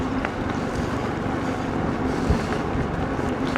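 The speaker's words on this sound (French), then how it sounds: "Le vent, il est glacial." Steady, icy wind buffeting and roaring across the microphone on an Engwe Engine Pro 3.0 e-bike ride, a constant dense rush with no talking.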